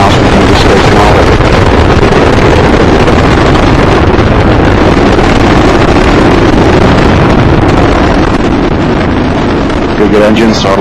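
Space Shuttle Discovery's main engines and boosters during the STS-116 launch from Kennedy, a very loud, unbroken rumbling roar with wind buffeting, and a commentator's voice faint beneath it.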